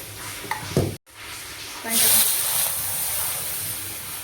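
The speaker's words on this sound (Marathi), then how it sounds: "एक चमच्यावर तूप टाकून घेते आपल्याला मोदक बनवायचे त्याचं सारण करून घेते" A spoon stirs modak filling in ghee in a home kitchen: a few light scrapes and taps come first, then a steady, close sizzle and hiss carries on to the end.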